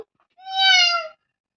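A single drawn-out meow imitated by a voice, clear and close, with silence before and after.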